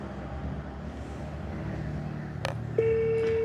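An outgoing phone call rings unanswered: after a murky background hum and a couple of short clicks, a steady electronic ringing tone starts and holds clearly to the end.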